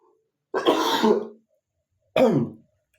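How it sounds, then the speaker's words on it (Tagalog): Two separate coughs from a woman, each a short rough burst up close, spaced about a second apart with quiet between them. "excuse me po, inuubo pa rin ako"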